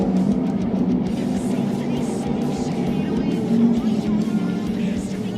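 Race cars circling Cottage Grove Speedway, a continuous loud roar of engines from the track with a commentator talking over it.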